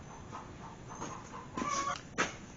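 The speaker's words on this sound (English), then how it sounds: "It sounds like I got a chicken in my house." Soft chicken-like clucks heard faintly inside a house during a Cadillac CTS bumper cover and running light repair, a few scattered short bursts with a sharper cluck near the end.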